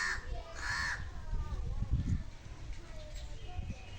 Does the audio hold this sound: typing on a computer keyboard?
no